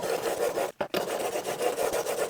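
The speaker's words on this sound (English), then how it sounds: "I'm applying medium pressure, but I'm really trying to let the stone do its job" A blade is drawn back and forth across a whetstone under medium pressure, giving a close, continuous rasping scrape with a brief pause partway through.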